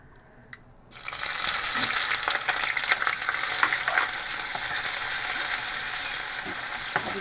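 Chopped onions hit a hot pan of oil with cumin seeds for dhaba-style palak paneer. After a brief quiet start they burst into loud, continuous sizzling and crackling, with occasional stirring scrapes.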